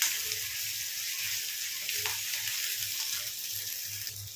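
Ginger garlic paste sizzles steadily in a hot pan, a close continuous frying hiss with soft crackles throughout and no voices.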